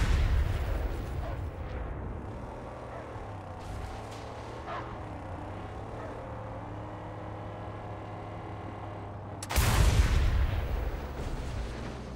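A tank cannon firing in the Mad Max game, a heavy booming blast at the start fading into a low rumble, then another loud boom near the end, with vehicle engine drone underneath.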